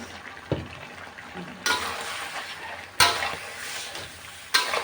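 Catfish stir-fry (pad cha pla duk) sizzling in a pan while a spatula stirs it, giving a steady frying hiss punctuated by several scraping stirs and clanks at irregular intervals.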